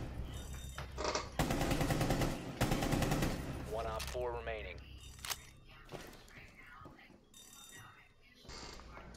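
Automatic gunfire bursts from a shooter video game, loud and rapid, with rattling volleys followed by scattered single shots, while voices talk and shout over the action.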